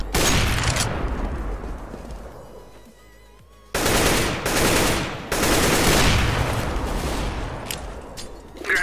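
Rapid gunshots and automatic fire in Counter-Strike: Global Offensive, loud and close, coming in dense bursts broken by a brief lull.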